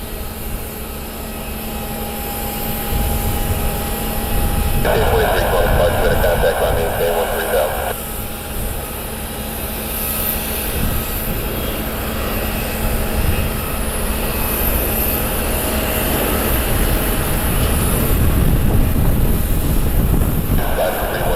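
Private jet departing an airport in Columbus, a steady loud engine roar with broadband rumble that holds throughout, while a person talks over it.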